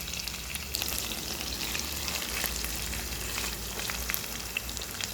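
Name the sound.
green chillies and onion frying in a pan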